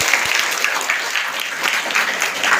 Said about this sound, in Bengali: আমরা আরেকটু জোরে একটা করতালি দিই।